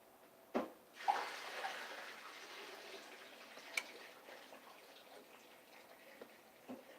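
Water running and splashing into a kitchen sink as boiled food is drained, a soft steady rush with a few clinks and knocks, fairly faint.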